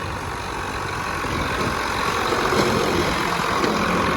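A tractor pulls up and settles into a steady diesel idle, a close, continuous low engine rumble that swells slightly as it arrives and then holds even, with no talking.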